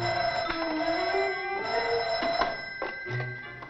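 A telephone rings continuously with a bright warbling bell, close and clear, interrupted by a few short clattering knocks, with no talk.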